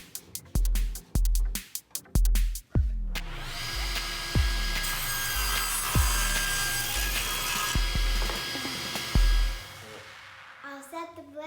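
A table saw blade cutting wood for a vinyl record holder. A series of sharp knocks comes first, then a long, loud whining cut with steady thumps underneath, ending in a few clicks.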